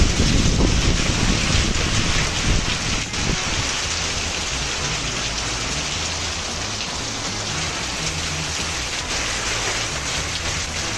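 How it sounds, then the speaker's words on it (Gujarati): Steady rain hisses down on surfaces in Morbi, Gujarat, with gusting wind strongest at the start, a dense unbroken wash of sound close by for the whole stretch and no voices. "અત્યારે હવે વરસાદ થોડા છાંટા ચાલુ થઈ ગયા"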